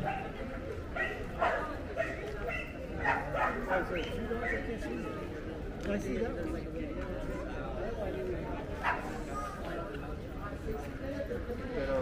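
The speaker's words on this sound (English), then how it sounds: "two dogs just go crazy" Two dogs bark excitedly in short bursts amid busy chatter and crowd noise on a tourist street in Oaxaca during Día de los Muertos, the barking fairly close and rising above the background.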